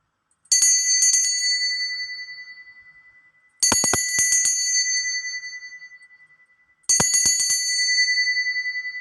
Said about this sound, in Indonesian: kita akan lanjutkan dengan lonceng tanda berbunyi